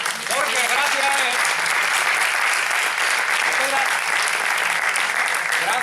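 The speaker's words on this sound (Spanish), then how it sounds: "a mí me gustaría darle un gran aplauso" An audience at a talk in Córdoba applauds Ildefonso, a loud, dense, steady burst of clapping that fills the room for several seconds, with brief voices heard faintly beneath it.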